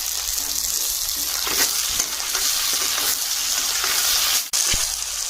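Chopped tomato hits hot oil seasoned with bay leaf and spices, giving a loud, steady, close sizzle with light stirring. A sudden knock and brief dip interrupt it near the end.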